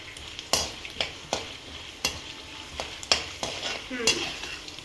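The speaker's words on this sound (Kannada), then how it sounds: "ಈಗ ಕಡಲೆ ಬೀಜ ಒಂದು ಅರ್ಧ ಫ್ರೈ ಆಗ್ತಾ ಇದ್ದಂಗೆ ಉದ್ದಿನ ಕಡಲೆಬೇಳೆ ಹಾಕ್ತಾ ಇದ್ದೀನಿ" Peanuts frying in a pan with turmeric as urad dal and chana dal go in for an idli upma tempering: a steady sizzle broken by regular, sharp scraping strokes of a spoon stirring about once a second, close and clear, no voices.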